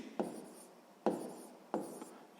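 Pen writing out a sixth-grade maths subtraction solution by hand, three short scratchy strokes spaced about a second apart, close and quiet with no talking.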